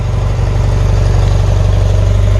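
A 1977 BMW R100S motorcycle engine idles steadily up close with the choke on, a loud, even low throb pulsing throughout with no voices.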